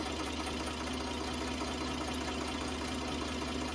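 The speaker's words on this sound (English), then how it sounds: "nice little tractor" Small Fendt tractor engine idling, a steady close mechanical chugging with an even knocking rhythm and constant vibration, no voices.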